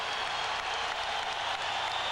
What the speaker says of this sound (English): And the applause for the Bruins